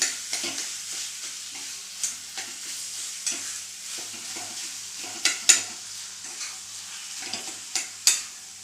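Mashed roasted eggplant bharit stirred in a frying pan, a spoon scraping and clacking in irregular near strokes over a soft, steady sizzle, with no talk.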